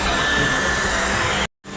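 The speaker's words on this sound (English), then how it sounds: "Dyson is the more powerful blow dryer." Loud, steady whooshing of Dyson and Gama hair dryers blowing close by, a constant airy roar that cuts off abruptly, then briefly restarts.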